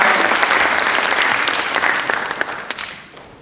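Sustained crowd applause at a community association gathering, full and even at first, then thinning into scattered individual claps as it tapers off near the end.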